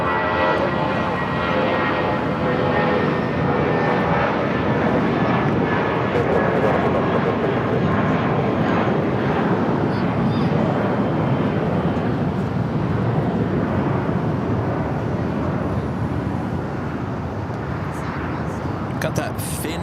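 A Korean Air jet heading toward taxiway Lima at Los Angeles LAX airport, with a steady, heavy engine roar and rush filling the background for the full twenty seconds while people talk over it.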